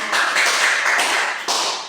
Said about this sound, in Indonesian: tepuk tangan dulu untuk Mila